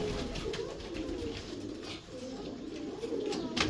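A pigeon coos in low, rounded repeated calls at close range, with other birds faintly around it and a quiet voice briefly in the background.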